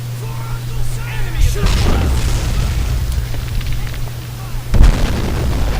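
An artillery shell bursts in the war strategy game Men of War: a deep boom with rumbling debris, then a second heavier thud a few seconds later over steady battle noise and a low hum, with someone talking throughout.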